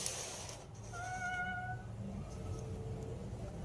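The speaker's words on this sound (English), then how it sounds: "hearing what sounds like a cat meowing at their front door" A cat meowing at a front door: a few drawn-out, fairly close meows with clear tonal pitch, heard over low background noise with no talking.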